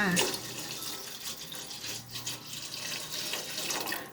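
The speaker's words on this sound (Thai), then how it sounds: "เติมน้ำเปล่าไปเพิ่มค่ะ" Plain water pours into a soup pot on a kitchen stove, a soft, steady trickling splash that runs for a few seconds at low volume.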